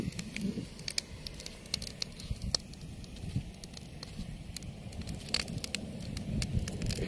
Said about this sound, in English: With the bonfire.